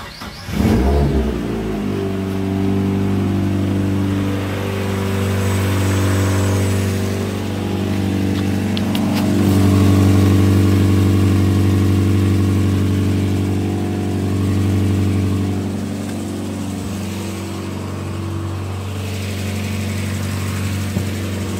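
A Mazda MX-5 engine, freshly refitted with differential, manifold and brakes, cranks and catches, then runs steadily with a loud, close idle that swells in a few revs before settling; no one speaks.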